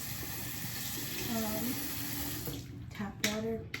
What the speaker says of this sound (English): This is just water.